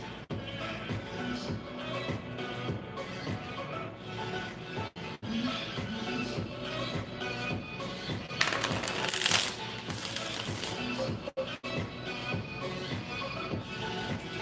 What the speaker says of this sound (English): I can barely shuffle this deck, honey.